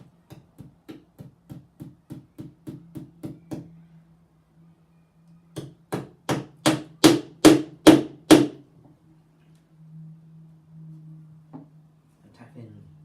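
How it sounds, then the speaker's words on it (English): Metal tacks hammered into a wooden shield rim over an anvil: a steady run of light taps, then a burst of seven or eight harder, louder blows, close by with a faint low hum between strikes. "I'm going to sit on the anvil, press the tack in"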